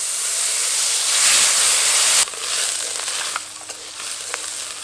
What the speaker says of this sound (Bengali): এগুলো নাড়ার সময় একটু অল্পখানি জল দিয়ে দেবো।